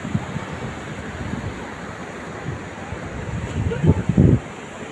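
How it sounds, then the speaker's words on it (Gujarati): Sea waves at Gomti Ghat in Dwarka, a continuous wash of surf mixed with wind buffeting the microphone, with a few louder gusts or thumps near the end. "તમને ગોમતી ઘાટના દરિયા દેવના દર્શન કરાવું"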